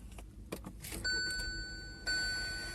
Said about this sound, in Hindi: कुछ इतना आपको इंजन का साउंड मिलेगा।